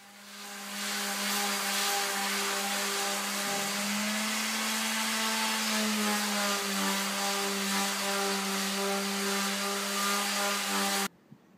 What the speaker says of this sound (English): So the first job after cleaning is to sand them.